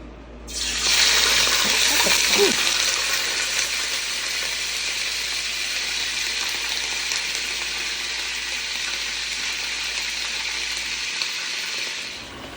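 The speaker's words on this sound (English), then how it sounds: "All right, so I'm gonna start browning the chicken now." Chicken pieces browning in hot oil in a pot for Jamaican brown stew chicken, a loud, steady sizzle that begins abruptly and holds evenly for about eleven seconds with no talking.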